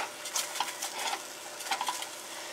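Garlic and ginger sizzle softly in oil at the bottom of a pan for a beef and vegetable stir fry, with light scraping and stirring patter, quiet and close.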